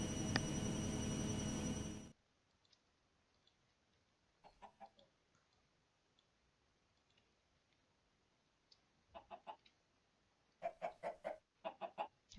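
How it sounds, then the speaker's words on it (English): Chickens cluck in short scattered bursts in Minecraft, following a loud burst of other game sound at the start, with quiet gaps between the clucks. "The chickens are doing fine."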